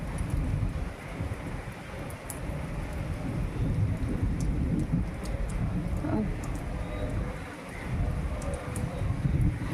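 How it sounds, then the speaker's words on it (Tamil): Steady heavy rain on an evening with thunder rumbling and gusting wind, a dense continuous wash of noise with low booming swells, loud and close throughout with no talk. "மழை பெய்யுது, காற்று வர அடிக்குது."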